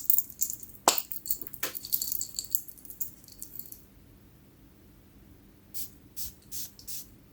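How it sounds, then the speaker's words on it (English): A perfume spray bottle spritzed onto paper, heard as several short, close, hissing bursts, some rapid early on and three evenly spaced puffs at the end, in a quiet room. "I'm going to spray each of them on a paper to test them out"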